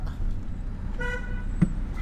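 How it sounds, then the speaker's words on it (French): A car horn gives a brief toot partway through, heard over road and traffic noise from inside a moving car. "On m'arrête de klaxonner, c'est illégal."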